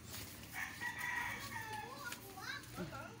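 A rooster crows once in a drawn-out call among clucking chickens during a New Year gathering, fairly near but quiet, with children playing and chattering around it.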